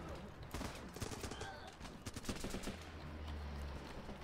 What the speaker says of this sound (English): I don't like this giant machine gun.